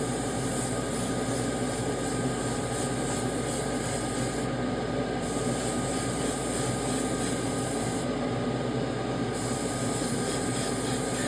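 A light coat of primer sprayed from a spray gun, a steady loud hiss of air and atomized paint running continuously without pause.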